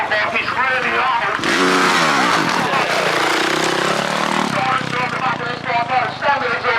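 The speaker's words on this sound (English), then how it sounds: "exhaust on the back, it's really loud." A vintage motorcycle fitted with a new loud exhaust, about 60 horsepower, revs hard at a vintage rally, its engine note climbing and falling in a strong, close roar across several seconds.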